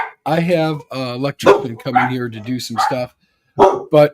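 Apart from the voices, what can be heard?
dogs barking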